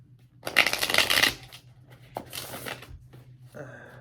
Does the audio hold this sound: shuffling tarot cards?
yes